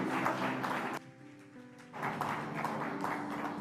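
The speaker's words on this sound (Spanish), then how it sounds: "Si le vas a dar el aplauso, dáselo al Señor" A church congregation applauds during a Spanish-language service in two sustained bursts separated by a short lull, with steady musical tones carrying underneath.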